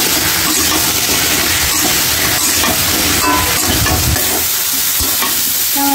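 Pumpkin sizzles loudly in hot oil with cumin and spices, a dense, hissing fry close to the listener, broken by stirring clatter and scraping, with no talk.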